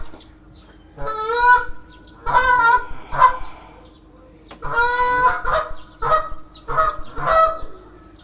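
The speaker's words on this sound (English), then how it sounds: "Even the geese are enjoying it." Geese honk in repeated close, loud bursts, several calls in quick succession with short pauses between groups, over a steady low hum.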